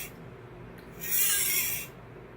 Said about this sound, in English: right now, I just want to get my nice burnish in